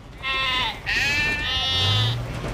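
Cartoon sheep or goats bleat in a quick run of about three loud, close, quavering calls that blend into one another, with no speech over them.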